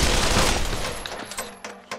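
Rapid gunfire in the Pavlov VR shooter, a dense loud burst of overlapping shots at first, then thinning to a few separate sharp cracks toward the end.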